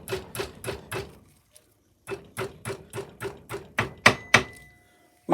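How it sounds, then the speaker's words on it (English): A hammer strikes pick wire to bend it to 90 degrees: a quick series of about five sharp metallic-wooden knocks, a short pause, then eight or so more blows that get louder, close by with no talk. "So I've got the old faithful hammer, and I'm just going to bend this over at 90 degrees."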